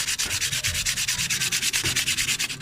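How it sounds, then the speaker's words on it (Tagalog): Sandpaper scrubbed back and forth over a rusty metal compressor mount on a Suzuki Every Wagon DA64W car air conditioner, a fast, steady rasping rhythm, loud and close with no voices. "liha para matanggal lang yung mga dumi"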